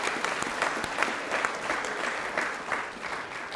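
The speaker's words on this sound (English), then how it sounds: "You're going to get a round of applause to yourself, Kailani." A school hall audience at a co-curricular prize giving applauds a junior varsity award winner, dense, even clapping from many hands throughout, close and fairly loud.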